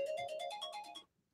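A phone alarm rings in a quick pulsing electronic pattern, about nine rapid beeps over one second, close and clear, then stops into near silence.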